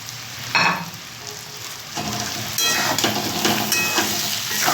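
Mango pieces are stirred into fish frying in oil in a pan, a close, steady sizzle broken by scraping stirs and a clink of utensil against the pan.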